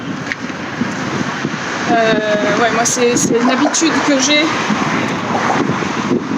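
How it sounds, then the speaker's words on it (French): Strong wind buffets the microphone while car traffic rumbles steadily along a street in Istanbul, a constant noisy backdrop beneath someone talking. "c'est énormément de vent et de bagnoles"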